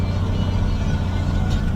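A 2000 Peterbilt truck hauling a hay mover on a farm rumbles with a steady low engine drone heard from inside the cab, constant and fairly loud throughout.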